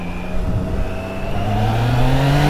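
A motorcycle accelerating on an open road, heard close from the rider's position, its engine tone climbing steadily over a constant rush of wind and road noise.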